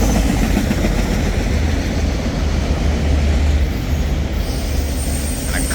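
Freight train 28R, carrying auto racks at the rear, rumbles past in winter with a loud, continuous roll of wagons, low rumbling and some faint wheel squeal, close by and with no talking.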